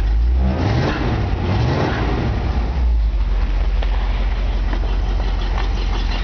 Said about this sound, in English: you listen to the engine.